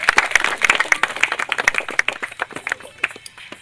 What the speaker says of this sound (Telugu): మనం ఇచ్చే ఈ క్లాప్సే సార్ ఆనందంగా పరవశుడవుతాడని నేను అనుకుంటున్నాను సార్